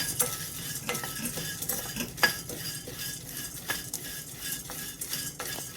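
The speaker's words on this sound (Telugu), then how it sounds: "పాన్లో నేను కొన్ని గుమ్మడి గింజలు కూడా వేసుకుంటున్నానండి" Pumpkin seeds roast in a pan and a utensil stirs them, making repeated scraping clicks over a soft sizzle in an irregular rhythm, close and alone.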